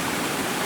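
Brook water runs steadily through a stone diversion channel on a hike near the Ballon d'Alsace, giving a close, constant rushing wash with no breaks or voices.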